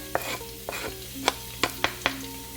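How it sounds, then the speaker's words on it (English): Garlic fries in oil in a preheated pan under a soft steady sizzle, with about six distinct scraping clacks as a utensil stirs it, close and unaccompanied by speech. "we are going to fry our garlic until golden brown"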